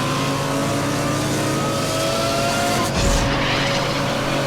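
Lamborghini Countach racing a police car in a Need for Speed Hot Pursuit Remastered cinematic on PS5, a continuous loud engine roar with a brief whooshing pass near the end, no talking.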